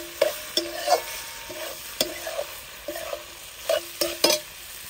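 Raw papaya vegetable being stirred together with finely crushed coconut and coriander in a pan, a spoon scraping in short repeated strokes with a light sizzle underneath, close and clear with no talking.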